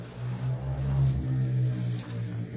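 A motorcycle passes by on the road outside, a low droning engine note that swells and fades over a few seconds, moderately distant, with no talk over it.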